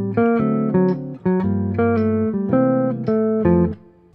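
A short bebop 5-to-1 phrase, played as a quick run of clear, separately articulated melodic notes that ends on a held tone, with no one speaking.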